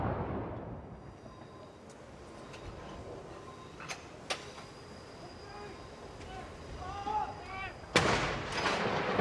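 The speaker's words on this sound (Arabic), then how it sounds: "إذن طلقات مدفعية مشاهدينا تنطلق تكريما" Artillery gun salute honouring Queen Elizabeth II, 96 rounds, with distant booms and sharp cracks scattered through a noisy outdoor background and a louder report near the end, heard under faint voices.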